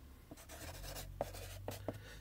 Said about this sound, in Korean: 여기다 좀 적어야 돼.